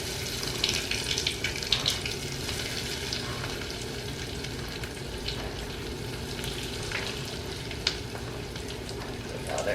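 Keto mozzarella cheese sticks fry in hot oil, a continuous close bubbling sizzle with occasional small pops and crackles, steady in volume throughout and without speech.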